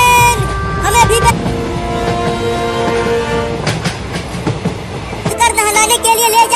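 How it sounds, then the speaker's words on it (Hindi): A train passes close by in a comedy skit, with steady rumbling wheel noise and tonal horn-like lines throughout, growing busier near the end, while voices talk and shout over it. "वो देखो एक और ट्रेन आ रही है।"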